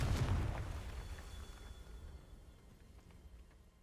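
A Confringo fire-blast spell in Hogwarts Legacy bursts with a loud booming explosion at the start, then rumbles and fades away over a few seconds.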